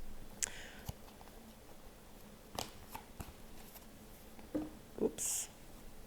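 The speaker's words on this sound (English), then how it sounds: "So I'm just shuffling these cards really well so we can get the best accurate reading for Aries." Tarot cards being shuffled for a reading, soft scattered riffles, taps and rustles at close range, quiet and uneven, with brief louder card flutters near the end.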